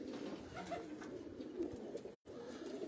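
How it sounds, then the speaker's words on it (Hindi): Pigeons from a cross of Pipla and English breeds coo steadily in a loose, overlapping rhythm, fairly close and moderately loud, with a brief dropout near the end. "पिपला वाले ते अंग्रेज कबूतरां दा क्रॉस है जी"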